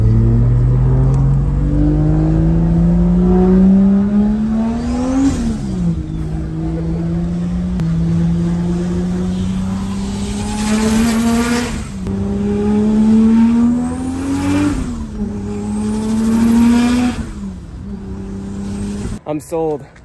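A Toyota Supra revs and accelerates hard from inside the cabin, its engine note climbing through several gear changes with brief dips between pulls, loud and close throughout.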